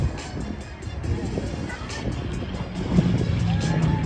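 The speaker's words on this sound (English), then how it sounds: "listen again to the beautiful music of that Packard-built Merlin engine." A Packard-built Merlin aircraft engine at the Westfield International Airshow, heard as a continuous low, rumbling drone that swells slightly toward the end, with no talk.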